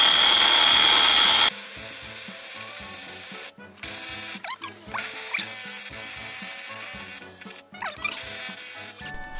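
A rusty side sill on a Mazda Roadster is ground and scraped down, producing a sustained rough abrasive rasp with brief pauses and uneven strokes, close and fairly loud, with no speech.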